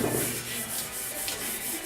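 A foam pad with a sandpaper-type backing is rubbed over metal, giving close, continuous abrasive scrubbing in quick back-and-forth strokes.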